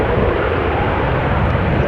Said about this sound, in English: This is Lot, Polish Airlines, Embraer 195, a regular Embraer 195,